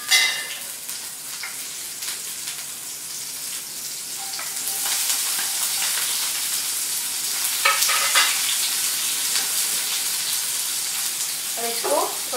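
Browned okra sizzles steadily in hot oil in a pan with freshly added green chili and onion, a bright continuous crackle with occasional scrapes and knocks from stirring, close by and fairly loud.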